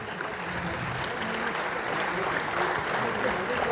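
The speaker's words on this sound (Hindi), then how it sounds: "जोरदार तालियों से उनका स्वागत किया जाए।" A full auditorium audience gives loud applause to welcome a guest at an album launch and award ceremony at Sirifort Auditorium, a thick, even wash of clapping held throughout.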